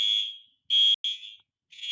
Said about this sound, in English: My dorm just had the fire alarm go off.